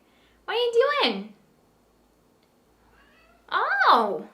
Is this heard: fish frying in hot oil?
no